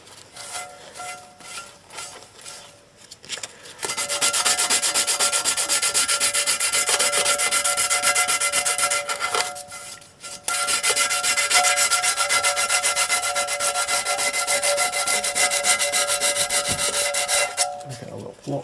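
Old silicone sealant is rubbed off the sump of a Ford Ecoboost 1.0 engine with a small block in long, steady scrubbing strokes, each lasting several seconds, with brief pauses between them. The rubbing is loud and close.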